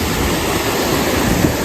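A waterfall running beside an outdoor cooking spot, heard as a loud, constant broadband roar with a low rumble, steady from start to finish and no talking.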